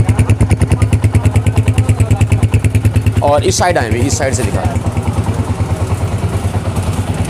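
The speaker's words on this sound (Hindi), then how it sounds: "ये देखें सिलेंसर का साउंड आप टेस्ट कर लें।" A Honda CG125 motorcycle engine idles steadily through its silencer, a close, even, rapid exhaust thump that keeps going throughout while someone talks over it.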